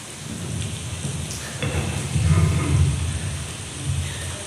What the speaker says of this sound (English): listen to the sound of the rain